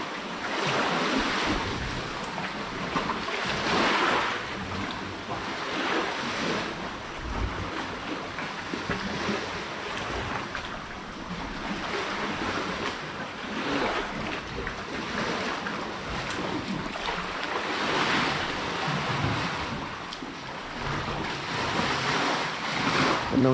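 Open-sea waves surge and wash continuously out on the water far from shore, with gusts of wind buffeting the microphone and no voices heard.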